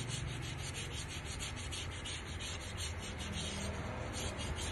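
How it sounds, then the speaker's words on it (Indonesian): Sandpaper rubs over the braking surface of a car's brake drum where it meets the brake shoes, a close, steady rasping scratch with a faint back-and-forth rhythm, quiet and alone. "Juga di amplas bagian tromol yang bergesekan dengan kampas rem"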